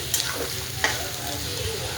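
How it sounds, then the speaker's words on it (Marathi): Chopped onion sizzles in hot oil with cumin and mustard seeds in a pan, a steady close frying hiss broken by a couple of brief stirring scrapes. "मी कांदा आपला छान असा भाजतो"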